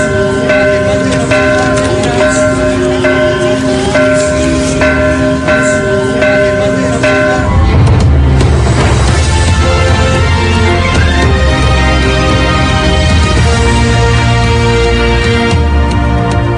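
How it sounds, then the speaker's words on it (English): Bells peal from Catholic churches in Mexico City, with loud, sustained ringing tones that overlap and continue through the whole span; the ring shifts to a deeper bell partway through, and there is no speech. "Mexicans flocked to the capital's 2 most significant Catholic churches to hear the church bells"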